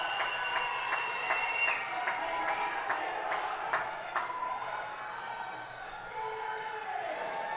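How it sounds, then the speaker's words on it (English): A crowd at a USA Powerlifting state championship meet gets hyped for a squat attempt, with faint, distant shouts, whistles and scattered clapping that rise and then settle into a low murmur. "You can hear the crowd getting hyped up."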